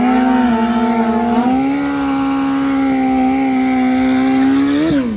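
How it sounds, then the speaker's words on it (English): A turbocharged Suzuki Hayabusa motorcycle does a burnout at a drag strip, its engine held at a loud, steady high-revving whine with a brief dip and rise near the end. "You gotta love a turbo Suzuki Hayabusa burnout."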